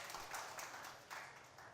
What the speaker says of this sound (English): Can we please have a huge round of applause